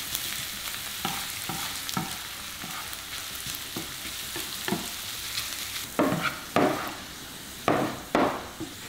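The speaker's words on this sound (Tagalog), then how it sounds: "Itutuloy ko lang ang pagluto sa bawang hanggang sa maging golden brown na ang kulay nito." Garlic sizzles in hot oil in a pan for sinangag while a utensil stirs it, with a steady frying hiss and irregular scraping clacks that get louder and sharper toward the end.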